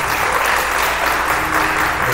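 A church congregation claps steadily and loudly throughout a short stretch during a Sunday sermon service, a dense continuous patter of many hands with no other sound standing out.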